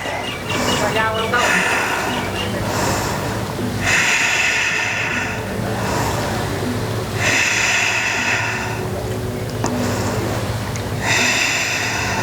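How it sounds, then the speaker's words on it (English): A yoga class breathing during a pose outdoors, with loud rhythmic inhalations and exhalations rising and falling in repeated cycles under an instructor's spoken guidance. "And breathe."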